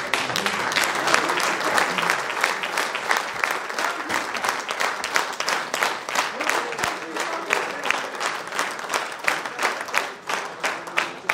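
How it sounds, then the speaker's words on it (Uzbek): Audience applauding for the Nasaf futsal team during a visit to the Shurtan gas-chemical complex, sustained many-handed clapping with distinct sharp claps, fairly close, with faint voices underneath. "olqishlab qo'yamiz"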